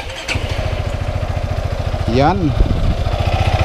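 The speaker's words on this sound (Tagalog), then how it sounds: "Yan na, naka-on na yung motor." A Yamaha XMAX 300 scooter, fitted with a newly replaced exhaust center gasket, idles with a close, steady rhythmic putter and gets a brief throttle blip partway through, while someone speaks over it.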